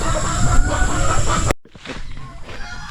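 Breeder turkeys, hens and a new tom, cluck and call on a backyard farm, a loud noisy flock that cuts off abruptly and resumes quieter and farther off.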